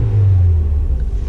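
A Volkswagen Jetta engine with a cylinder 3 misfire revs up in a short, loud, close rumbling burst that then settles back.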